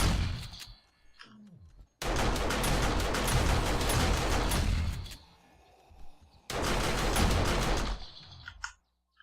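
Automated turrets fire at zombies in the video game 7 Days to Die, an auto turret and a shotgun turret blasting in two dense, loud bursts of rapid gunfire separated by a short lull, with no talk.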